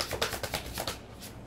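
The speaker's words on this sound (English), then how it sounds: "They're going to make me shuffle this one out." A deck of tarot cards is shuffled close by in a quick run of soft riffling flutters and taps, with no talking over it.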